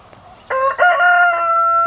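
Backyard chickens with a rooster crowing loudly and close, one long cock-a-doodle-doo after a brief quiet start, with faint clucking before it.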